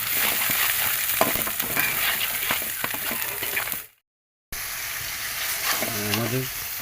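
Fish masala with turmeric frying in a pan and stirred, giving a steady close sizzle with scraping strokes, then a brief dropout, then more frying with a short voice-like hum near the end.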